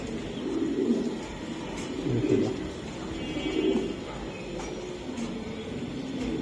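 Racer pigeons from a racing club coo in soft, repeated low bursts close by, set against a steady background hum.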